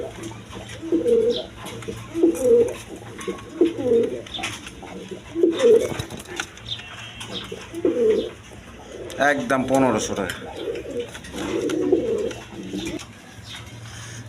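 Pigeons at a market stall give repeated low coos in short bursts, fairly close, while someone talks over them at intervals.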